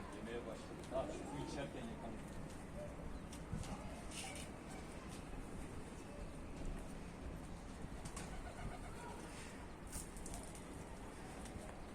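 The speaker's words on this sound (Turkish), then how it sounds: "Kuşlar sanki çok aç." Pigeons coo softly and steadily in a Turkish pigeon loft keeping breeds such as Karakafa, Şallı, Bango, Baska, Mardin and Dönek, with wingbeats now and then and people talking nearby over a constant bed of noise.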